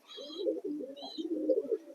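Pigeons in a loft coo in low, throaty, rolling phrases that run almost continuously and close by, with a few fainter higher calls drifting in over the top.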